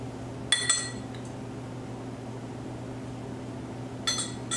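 Cherries dropped into cocktail glasses with a bar spoon for a piña colada give two brief glassy clinks, one early and one near the end, over a quiet room hum.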